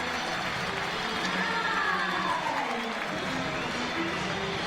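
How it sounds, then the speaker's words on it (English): A crowd at the CrossFit Games roars and applauds for a 19-year-old athlete from Pori, Finland, as he reaches the finish line, a sustained wall of cheering with a commentator talking over it. "listen to this crowd applaud the effort from the 19-year-old from Pori, Finland"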